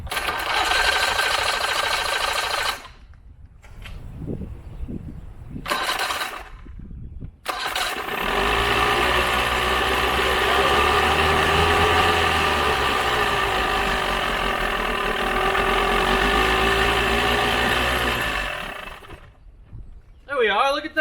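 A 1982 Mercury 40 HP outboard motor cranks in several short bursts with pauses, then fires and runs steadily at a loud, buzzing idle for about ten seconds before cutting out.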